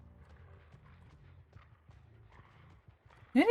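Horse hooves clip-clop softly in a steady rhythm in the Dead by Daylight video game, then a sudden loud sound cuts in at the very end.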